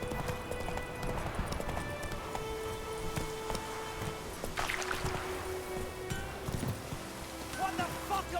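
Roach, a horse in The Witcher 3, gallops with a steady, continuous clip-clop of hooves over game ambience and music, close and driving throughout, with a voice talking over it.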